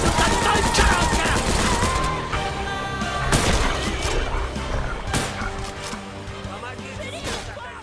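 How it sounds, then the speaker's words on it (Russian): Gunfire and knife strikes in the 2024 video game Pioner, sharp shots and clatter blended with game music and sound effects, under steady talk. "Также звуки выстрелов, удары ножом."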